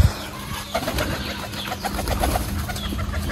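Pigeons coo softly in a loft, a run of short repeated pulsing coos near the microphone, with some faint rustling and a brief thump at the start.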